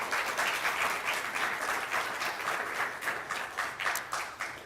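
Live podcast audience breaking into a dense round of clapping, steady and fairly loud throughout with no voices over it.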